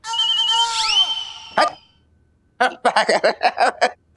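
A telephone rings loudly with a bright electronic tone that bends downward and stops, followed after a pause by a quick series of short ringing bursts.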